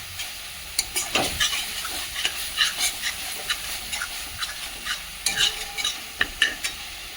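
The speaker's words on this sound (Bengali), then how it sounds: "এটা একটু ভালো করে কষিয়ে নেব" Onion paste and spices stir-fried in a pan for a potato fish curry, giving a steady sizzle with repeated scraping strokes of a spoon across the pan, close and fairly loud, with no voices.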